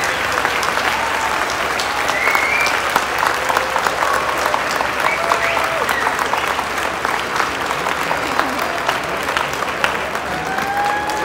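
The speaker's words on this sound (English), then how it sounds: "give them a nice round of applause" Audience of family and friends at a university engineering graduation celebration applauding steadily, a dense, even wash of clapping sustained throughout at moderate loudness.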